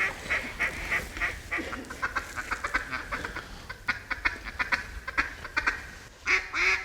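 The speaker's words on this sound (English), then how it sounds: "We're already starting to hear some birds in the air, some drakes kind of whistling" Ducks calling and quacking over flooded timber at first light, with repeated bursts and thin whistling notes from drakes in the air, moderately loud and continuous.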